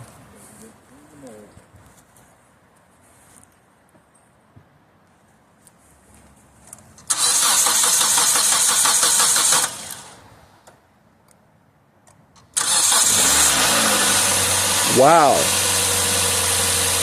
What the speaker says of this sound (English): he's going to make an attempt to start the car